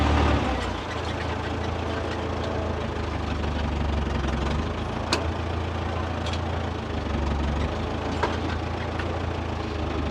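An aging farm tractor with worn brakes runs steadily, a low, knocking diesel idle rumbling continuously and close by, with faint clanks on top.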